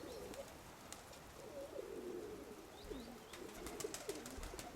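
Pigeons coo in soft repeated phrases, fairly faint and a little distant, over a quiet outdoor background with a few brief chirps.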